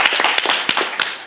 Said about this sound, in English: We can clap for Chris if we'd like